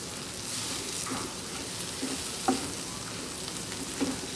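Coriander and curry leaves stirred into a frying capsicum egg fry, with a steady close sizzle and a few light scraping knocks of the spoon against the pan.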